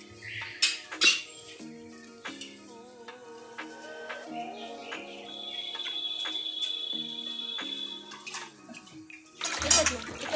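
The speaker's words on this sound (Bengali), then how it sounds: "এখন ধুয়ে নিয়ে আসি।" Helencha greens being washed by hand in water in a kitchen, with splashing and sloshing, clinks of a metal pot or bowl, a brief tonal ring partway through, and a louder burst of water near the end.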